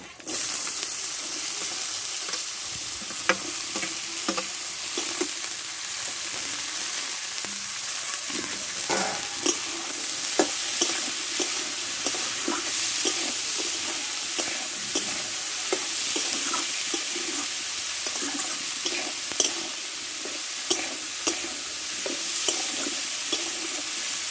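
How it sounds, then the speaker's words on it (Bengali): Jackfruit pieces sizzle steadily in hot oil in a pan while being stirred, with a constant close frying hiss broken by frequent scraping and clattering spoon strokes throughout. "এবার এই তেলে আমি কাঁঠালটা ভালো করে কষে নেব।"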